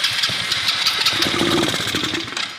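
An old engine that sat parked in a dark, damp place sputters and turns over after the choke is taken off, with uneven mid-pitched rumbling and knocking that stays fairly loud throughout, and no talking.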